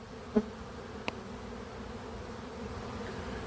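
A large swarm of honey bees, about ten pounds, buzzes in a bee yard as a steady, moderately faint hum, with a couple of brief knocks near the start.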